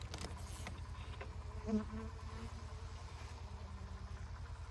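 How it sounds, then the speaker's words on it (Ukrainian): Honeybees from an apiary hive on a sunny day, a steady close, continuous droning buzz with a few brief louder passes near the start and middle, no talk. "Сьогодні трошки сонячно було, то бджілки вилітали"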